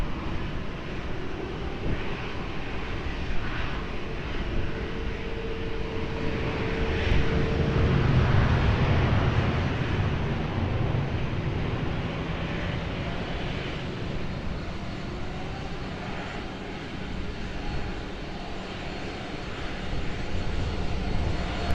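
A fixed-wing airliner lands at Lisbon Airport, its engine roar rising and swelling in the middle and then slowly fading, steady and fairly distant throughout with no voices.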